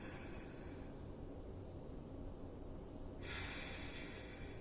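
A long, steady lateral-breathing inhale sounds as a close, airy hiss that holds for several seconds and brightens toward the end, with no talking.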